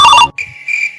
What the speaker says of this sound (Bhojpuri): ये देख ये ना फोन आ गेली